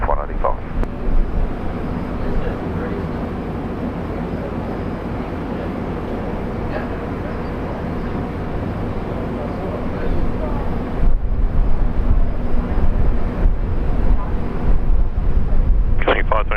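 A Qantas airliner takes off from runway 01 right at Brisbane International Airport, its engines giving a loud, steady, broadband roar that swells in the later seconds, with radio chatter faintly in the background.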